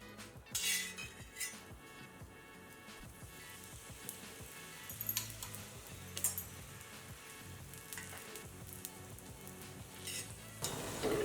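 A stuffed paratha fries in oil on a pan over a medium flame, giving a steady sizzle with occasional clinks and scrapes of a utensil against the pan.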